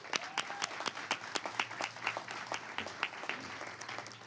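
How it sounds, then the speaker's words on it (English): Applause from a press conference audience, a modest crowd clapping with distinct individual hand claps, fairly close and lively, lasting a few seconds without talk over it. "Can we give them a round of applause?"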